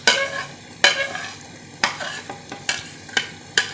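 Boiled beef chunks are stirred and fried in masala for beef pulao, about seven sharp spatula scrapes landing at a loose rhythm over a constant close sizzle.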